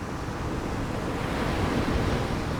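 Steady ocean waves rush and hiss as a continuous, broad wash of surf with a soft low rumble and no other sounds.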